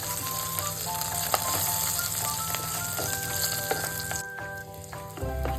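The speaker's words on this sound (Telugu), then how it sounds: "ఈ మూడింటిని ఆయిల్లో మంచిగా ఫ్రై చేసుకోవాలండి." Cumin seeds and other whole spices fry in hot oil for a summer cucumber yogurt chutney, giving a continuous close sizzle with scattered small pops and crackles, fading slightly near the end.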